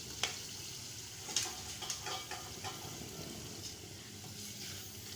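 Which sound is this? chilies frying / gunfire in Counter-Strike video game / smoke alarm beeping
chilies frying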